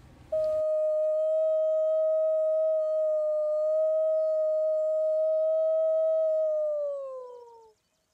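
A person imitates a wolf howl outdoors in Yellowstone, holding one long, steady, pure-toned note for about seven seconds before it slides down and fades out.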